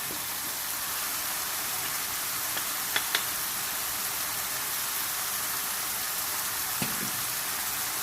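Minced meat sizzles steadily in a pan with roasted crushed cumin for smoky qeema methi, a continuous close hiss with a few faint clinks, no talking.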